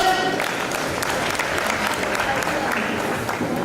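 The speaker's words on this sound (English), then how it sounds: "Christabel, makofi kwake." Audience applause for Christabel Grace at the Nairobi Region education dialogue, a steady, dense clapping that holds at even loudness for the whole stretch, with faint voices mixed in.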